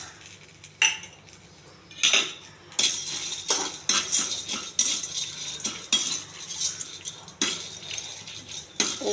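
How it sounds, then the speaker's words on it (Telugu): Roasted gram and coriander are dry roasted in a pan without oil, with a spoon or spatula scraping and clinking against the metal in irregular, fairly loud bursts. "కొన్ని పుట్నాలు కూడా వేగించాలి"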